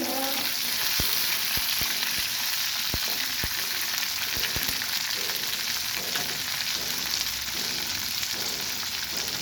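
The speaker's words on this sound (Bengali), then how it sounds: "আমি টমেটোগুলো দিয়ে দিলাম টমেটোটা ভেজে নিয়ে" Tomatoes frying with onions in hot oil for a potato and bitter gourd pulao, a steady loud sizzle throughout with scattered sharp crackles and pops, no talking.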